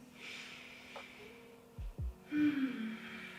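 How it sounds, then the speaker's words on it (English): Slow, deep breaths drawn in and let out during a hamstring stretch in a home workout, soft and close, with two airy inhale-exhale swells and a faint low hum underneath. "Take some deep breaths here."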